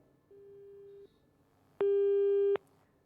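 Telephone busy signal after a call cuts off: a faint tone, a pause, then a louder steady tone pulse, two beeps in all with no one talking.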